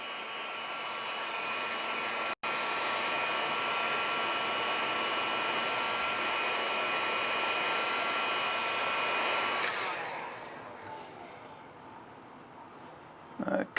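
A steady blast of blown air plays over a fresh epoxy pour for a serving platter, a loud continuous whoosh that holds for about ten seconds, then softens and trails off near the end.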